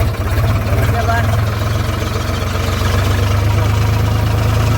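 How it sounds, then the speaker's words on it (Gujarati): A tractor engine chugs loudly and steadily close by, a deep, even idling throb that continues without pause. "આપણે ટ્રેક્ટર હાલતું કરી દીધું."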